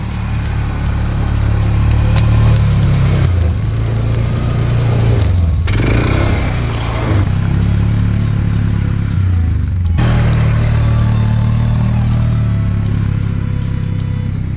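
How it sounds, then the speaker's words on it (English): A quad ATV driving over bushes on a forest trail, the engine loud and close with revving surges and dips, brush crackling and clattering under the wheels throughout. "I want to see how the quad drives over all these bushes"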